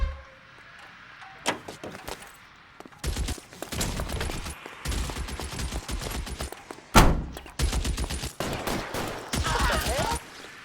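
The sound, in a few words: gunfire in L.A. Noire video game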